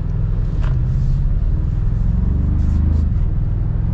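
Toyota Tacoma TRD Pro hybrid truck pulling from inside the cab, a steady deep engine rumble with slight swells, faint voices occasionally present.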